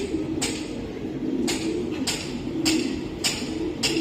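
Long-distance racing pigeons coo close by in soft, rolling low calls, punctuated by about six sharp flutters or taps spaced roughly every half second to a second.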